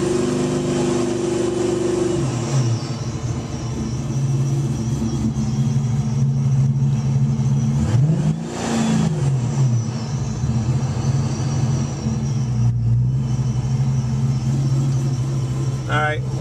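A cold engine with Pro M EFI fuel injection idles steadily around 1,000 rpm, a continuous close-up hum with a brief rise and fall in pitch midway, and faint talk mixed in.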